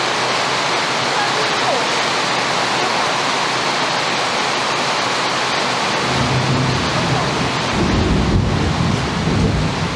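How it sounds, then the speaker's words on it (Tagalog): Heavy rain roars steadily throughout in the Philippines, with a deep low rumble swelling in the last few seconds like nearby thunder. "Lakas na po ng ulan, oh. Kumikidlat pa."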